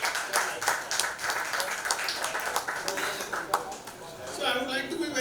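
Audience applause at a book launch for an actor-turned-author, a burst of clapping from a gathered crowd that runs for several seconds and thins toward the end as a voice comes in.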